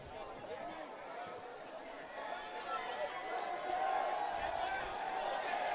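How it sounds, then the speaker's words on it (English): A football stadium crowd swells steadily louder, a broad roaring hubbub building over several seconds with a commentator talking over it. "the crowd getting loud here"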